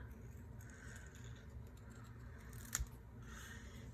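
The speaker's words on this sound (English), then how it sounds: "I'm just going to cut that out" Scissors cutting paper scraps for a Stampin' Up! Simply Citrus card kit: very quiet, soft snipping and rustling with one brief crisp snip near the end, close and with no talking.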